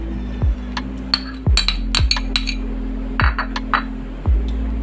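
A spoon knocks and clinks repeatedly against a glass bowl while butter is mixed into crushed Oreo biscuits. Several sharp, close taps come at irregular intervals over a low background rumble.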